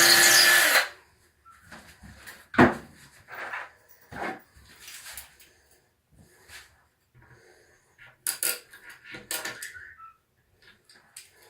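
A power drill drives lag bolts into a wall to hang a set of moose antlers. Several short, separate bursts of drilling are heard close by, with quiet pauses and faint handling noises between them.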